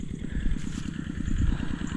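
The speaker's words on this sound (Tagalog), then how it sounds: "umaandar na rin makina natin" An engine runs steadily at idle, a low rhythmic chugging throbbing evenly throughout, close and moderately loud.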